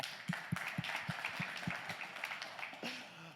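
Applause from an audience at a conference rises briefly for the speakers, a short burst of clapping with a few louder hand claps near the front and a voice at the end.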